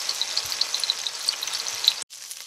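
A steak sizzles in a smart frying pan with a steady, bright hiss that carries on for a couple of seconds and then cuts off briefly before resuming more quietly, with no voices.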